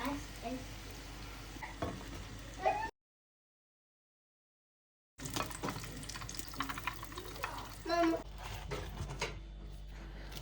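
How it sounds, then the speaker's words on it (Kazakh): Samsa pastries fry in hot oil in a pot, making a steady close crackling sizzle with occasional clinks of stirring. A silent gap breaks it midway, then the frying resumes. "Енді осылай қызартып пісіріп ала береміз. Міндетті түрде майларыңыз қызып тұрсын."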